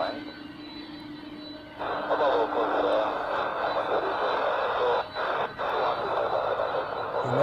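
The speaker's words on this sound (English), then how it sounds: "the characteristic engine sound of a 767. The old engines, music to my ears" At Zurich Airport, a Boeing 767 with older engines produces a steady, droning engine whine that swells after a quieter start and continues with brief dips. A radio voice and talk run underneath.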